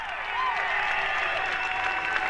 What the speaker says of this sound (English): you can hear the crowd, some cheering, some booing, as the South Dakota Coyotes leave the floor